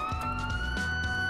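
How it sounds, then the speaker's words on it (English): A steady electronic police car siren wails continuously from an ELS 8.0 vehicle in the LCPDFR mod for GTA IV, loud and close throughout with a few low thumps underneath. "kill that siren"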